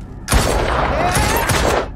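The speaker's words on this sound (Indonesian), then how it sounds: "Dengan cepat, Ahmed melepaskan tembakan" A burst of heavy gunfire erupts suddenly and continues as a dense, sustained volley with rumbling booms, loud and close.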